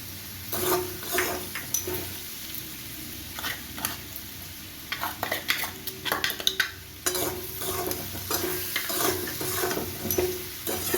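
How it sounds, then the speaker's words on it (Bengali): Spices sizzling and frying in a pan for mocha ghonto, a banana flower curry, with sugar and cumin powder, while a spoon stirs and scrapes in uneven bursts over a steady close hiss, no voices. "মশলাগুলো দিয়ে ভালো করে কষিয়ে আমি এর মধ্যে দিয়ে দেবো"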